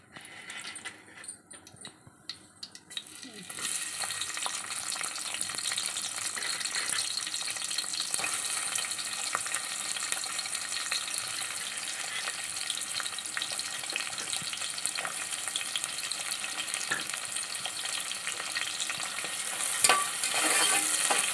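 Onions and a two-inch cinnamon stick frying in oil, a dense, even sizzle that starts abruptly after a few quieter seconds and then holds steady and close, with no voices.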